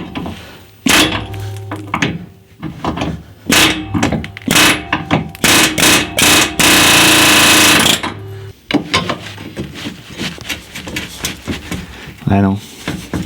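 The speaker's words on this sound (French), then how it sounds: "Peut-être un coup de marteau-piqueur pour casser la rouille." Loud, rapid pneumatic hammering in repeated bursts breaking rust on an Alfa Romeo, with one long continuous blast in the middle and sharp metallic knocks between runs.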